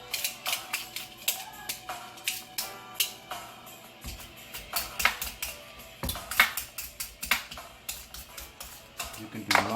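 A knife cutting butternut squash on a board, giving a series of sharp, uneven chopping clicks and taps at close range, fairly quiet, with faint background noise and no clear talk.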